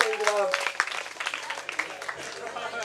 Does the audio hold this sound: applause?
yes